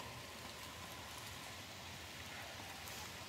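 Steady rain falls on a wet road during a running workout, a dense, even hiss holding at a constant level throughout with no voices.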